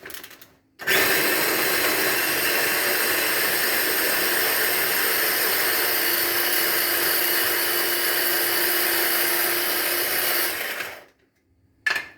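An electric grinder whirs loudly and steadily for about ten seconds as it blends capers with other ingredients for a French bread topping, then cuts off and spins down, followed by a brief restart.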